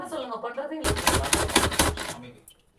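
A kitchen chopper finely mincing vegetables for egg burji rattles in a rapid, dense clatter of clicks lasting about a second, heard up close alongside someone talking.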